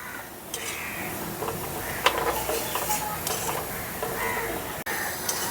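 Curry pakoras for Rajasthani-style kadhi frying in hot oil, a steady close sizzling hiss broken by a few brief clinks and scrapes.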